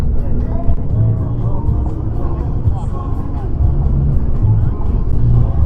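A pickup truck engine drones loudly and steadily from inside the cab during an autocross lap at the Pro Touring Truck Shootout, with a commentator talking over it.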